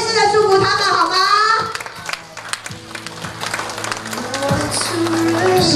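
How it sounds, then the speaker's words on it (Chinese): Wedding guests applaud the couple in a reception hall, a sustained patter of clapping that runs under a host's amplified voice at first, then continues more thinly. "现场嘉宾朋友们，让我们用持续不断的掌声，再次的祝福他们"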